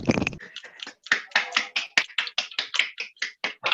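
Clapping comes in a quick, fairly regular run of about fifteen sharp hand claps, close and distinct, like a small group or single pair of hands applauding in a room.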